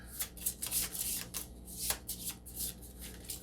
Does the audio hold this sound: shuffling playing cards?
yes